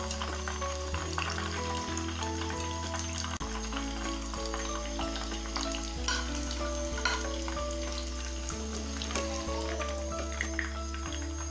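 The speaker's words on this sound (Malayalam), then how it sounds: "അതുപോലെ നമുക്ക് ബാക്കി വരുന്നിട്ടുള്ള ചിക്കനും കൂടെ ഒന്ന് വറുത്ത് പോരാം." Chicken pakora deep-frying in hot oil sizzles and crackles loudly and steadily at close range, with a low constant hum underneath and no pause in the bubbling.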